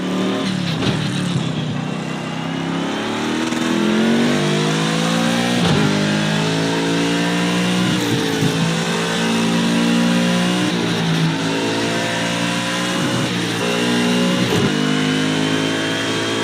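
Race car engine in Project Cars 2, a GT World Challenge car, revving loudly and continuously with repeated rising pitch sweeps as the gears climb, each shift breaking the climb for a moment, with no talk over it.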